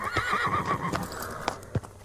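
Horse neighing loudly in a TV commercial for AT&T and the Samsung Galaxy Z Flip 6, a single shrill whinny followed by a few hoof clops, close and clear.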